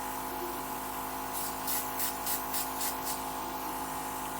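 A steady hiss of background noise carries a series of about eight soft, quick bursts from a makeup airbrush in a rhythmic run, close and fairly quiet.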